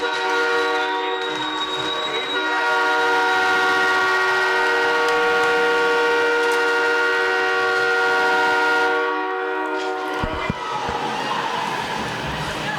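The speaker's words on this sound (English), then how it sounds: "There's been a lot of train traffic here" A train passes near an ice hockey rink during a high school boys' game, its horn sounding loud and sustained for most of the stretch before cutting off, with rumbling rail noise continuing underneath and no talk.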